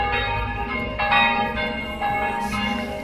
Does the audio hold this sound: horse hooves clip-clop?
no